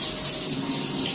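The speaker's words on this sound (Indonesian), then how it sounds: "cuci luka dengan air mengalir" Steady running tap water, a continuous splashing stream at close range with no other sounds.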